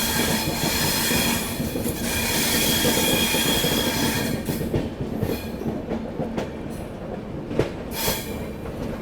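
A passing train rumbles loud and close throughout, with rail clatter, wheel squeal and a dense rush of carriages that gradually eases toward the end, heard from aboard the Subedarganj–New Delhi special during its journey.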